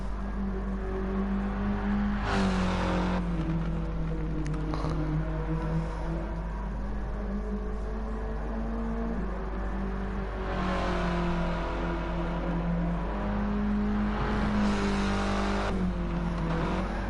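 Cars rev in a racing video game, one engine note droning steadily with rising and falling pitch shifts as it accelerates and eases off, sustained and fairly loud throughout.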